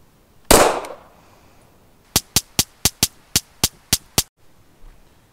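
A handgun firing powder-coated reloaded rounds outdoors: one loud single shot with a ringing tail, then after a pause nine quick evenly spaced shots in a rapid string, close and clear without talk.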